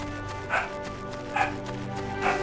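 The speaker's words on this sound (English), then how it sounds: "Sorry for the dog barks, everyone," Pet dogs at home bark in three spaced, moderately loud bursts over steady background game music, with no one speaking.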